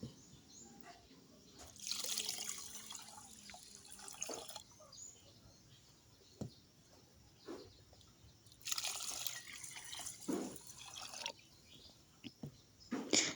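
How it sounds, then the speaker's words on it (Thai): Rice being washed in water several times for rice porridge, with intermittent splashes, trickles and drips, some louder swishing bursts between quieter stretches, close by. "ข้อยก็จะล้างๆหลายๆน้ำเนาะทุกคน เพราะว่ามันจะมีขี้ฝุ่นหลายเนาะ"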